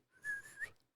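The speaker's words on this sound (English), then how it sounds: "he's probably heard the whistle." A clear human whistle blown as a call to a chimp, two rising tonal bursts back to back, close and fairly loud, with no talk over it.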